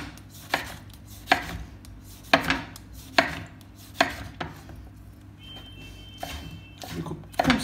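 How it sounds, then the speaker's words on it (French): A knife chops tomato pieces on a cutting board with about a dozen sharp, evenly paced cuts. Each one is a crisp close knock, and a quieter kitchen background runs between them. "Je vais couper des morceaux de tomates, comme ceci."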